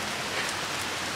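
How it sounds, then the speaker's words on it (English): Heavy rain falls outdoors in a continuous broadband hiss that fills the whole short stretch. It is loud and close, with no voice over it. "if you can hear me over the rain"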